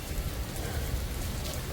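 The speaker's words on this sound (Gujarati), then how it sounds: "વરસાદ પણ આવી ગયો" Rain falls in a steady, dense patter that holds evenly throughout with no pauses and no thunder.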